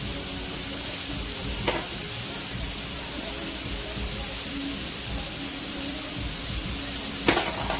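Hamburger meat sizzles steadily in a hot pan while BBQ baked beans are prepared, a continuous close frying hiss with a couple of brief sharp clinks, no talking.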